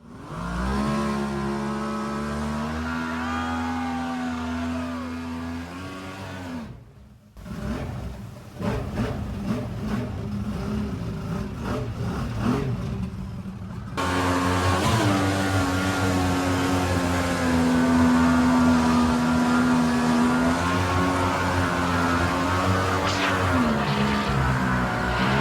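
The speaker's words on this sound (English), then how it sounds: "Typical jet boat activities." A mini jet boat engine in Idaho drones and revs loudly, its pitch rising and falling in sustained surges with a short drop in the middle before climbing back to a steady high whine.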